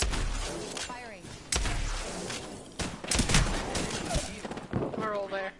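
Bursts of gunfire ring out in a hectic Apex Legends match, sharp repeated shots scattered through the clip while people talk over the action.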